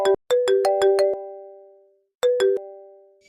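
Phone ringtone of an incoming call: a loud bright melodic chime of rapid notes, a ringing pause, then a second short burst of the same tones, with no voices.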